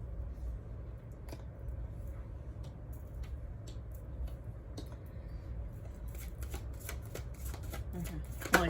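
Playing cards riffled and shuffled close by during a card reading, soft papery flutters and snaps under a low steady hum, with a busier burst of rapid shuffling near the end.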